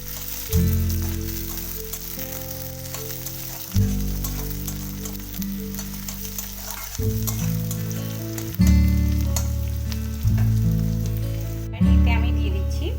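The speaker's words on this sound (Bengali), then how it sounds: "একটা গোটা পেঁয়াজ আমি কুচি করে রেখেছি সেটা আমি তেলে দিয়ে দেব এবার খুব ভালো মতো এগুলো ভেজে নিচ্ছি" Chopped onion fries in oil with a continuous sizzle under loud, steady tonal background music that shifts every few seconds.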